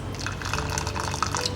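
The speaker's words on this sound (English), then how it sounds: "So onto my akamu, I'll be adding just a little bit of warm water" Warm water trickles into a bowl of akamu (pap made from grain flour), a short, close run of soft drips and liquid splashes.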